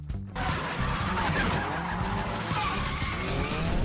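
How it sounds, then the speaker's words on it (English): Cars drifting very close by with loud, continuous tire skidding and squealing over engine roar, sustained for several seconds without a break. "The operator managed to capture incredibly close drifting of these cars."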